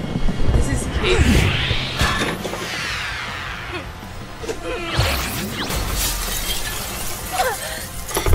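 Glass shatters in the Miraculous: Rise of the Sphinx video game, a loud crash with a burst of breaking fragments, followed by a second crash amid whooshing effects and game noise.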